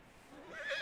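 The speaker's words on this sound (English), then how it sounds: "we got to calm this horse. It's a pretty looking horse." In Red Dead Redemption 2, a horse gives a short, faint whinny that rises in pitch and grows a little louder toward the end. It sounds alone, with no speech.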